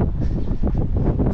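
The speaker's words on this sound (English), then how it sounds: "Definitely is windy." Steady, loud wind buffeting the microphone outdoors, a continuous low rumbling roar with gusty fluctuations and no speech.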